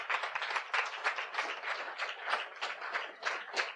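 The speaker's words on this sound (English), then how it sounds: "let's give Shana a round of applause" A small audience gives a round of applause at a social media talk, steady dense clapping for the whole stretch with no voices over it.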